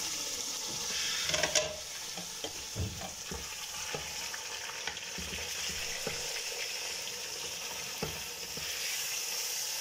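About 1.5 kg of meat frying in a pan for an Eid dish, with a steady broad sizzle and occasional clinks and stirring scrapes, fairly quiet and close, no talking.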